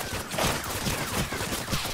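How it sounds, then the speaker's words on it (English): Dense bursts of automatic gunfire in the video game DayZ Overpoch, rapid overlapping shots in a continuous loud fusillade close to the listener with no pauses. "I can't speak over the bullets!"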